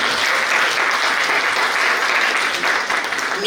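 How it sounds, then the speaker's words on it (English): Sustained audience applause fills a hall at the Kerala Center Award Night 2023, a dense, steady wash of many hands clapping at close range with no pause. "I need a big round of applause to the Kerala Center."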